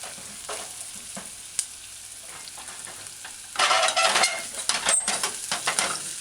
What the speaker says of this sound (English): We're gonna get ready to stir fry